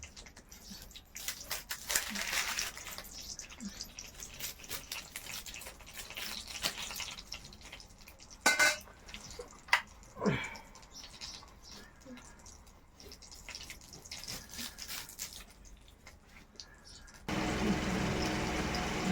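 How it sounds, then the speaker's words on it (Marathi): Oil is poured and an onion chopped in a home kitchen while preparing a chickpea curry, with scattered dripping and clicking cuts under intermittent speech. A louder, steady hiss comes in near the end. "तर हे तेल ओतून घेऊन आणि कांदा चिरून घेऊ"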